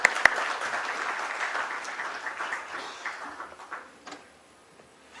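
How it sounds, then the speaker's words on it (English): Applause from an audience at a stock exchange listing ceremony for GNG Electronics Limited, a dense burst of clapping that swells at once, holds steady, then thins to scattered claps and fades out over about five seconds. "Let's have a huge round of applause for sir,"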